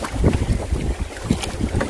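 Strong wind roars and buffets the microphone in gusts on an island during net fishing, a dense low rumbling rush with no voices.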